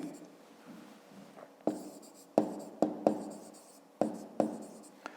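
A pen scratches on paper during a fifth-grade maths exercise, with quiet, close strokes arriving in short irregular bursts separated by pauses.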